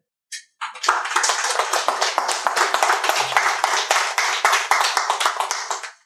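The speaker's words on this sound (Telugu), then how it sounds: "క్లాప్స్ కొట్టండి" An audience at a manifestation workshop breaks into applause after a brief first clap, a dense, steady burst of many hands clapping together that lasts about five seconds before stopping sharply.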